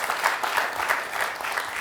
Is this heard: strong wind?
no